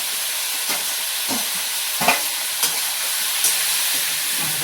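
Vegetables frying in a pan give a steady, loud hiss of sizzling close by, with soft scraping knocks from stirring every second or so and no voices.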